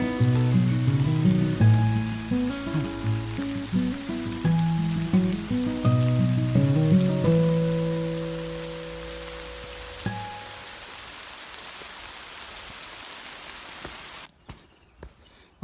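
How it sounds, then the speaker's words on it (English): A rain shower patters steadily on a forest trail along the Appalachian Trail in Shenandoah, a continuous wash of drops that fades toward the end. "we just got a little shower"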